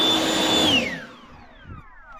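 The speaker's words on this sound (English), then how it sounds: "get the leaf blower" A leaf blower roars loudly nearby during a 2006 Ford Ranger fuel pump job, then its whine drops in pitch as it winds down and fades out.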